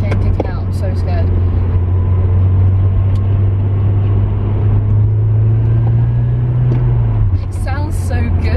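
A Nissan S15 engine drones steadily from inside the moving car, a strong low hum that holds level for several seconds, rises slightly, then drops off near the end, with a few faint bumps and clicks over it.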